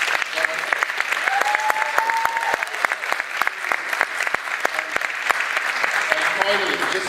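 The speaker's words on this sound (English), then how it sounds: "Will you please join me in applauding the contributions of Paul, Suresh, and Oliver," An audience at a public campaign meeting applauds the speakers, a sustained patter of clapping hands with sharp individual claps standing out near the microphone and a few voices calling over it.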